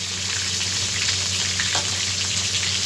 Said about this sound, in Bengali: এইখানে আমি কিছু কাঁটা যে ভাজতে দিয়েছি